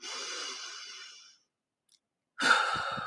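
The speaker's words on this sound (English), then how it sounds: "all you have to do is take a breath" A deliberate breath, drawn in audibly and close, then a pause of silence and a second strong breath released, with no talking.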